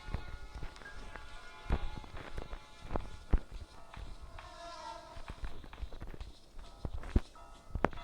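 Granny's footsteps in the horror game Granny Chapter Two: an irregular series of heavy thuds and taps, some close and loud, others softer, scattered over a low hum.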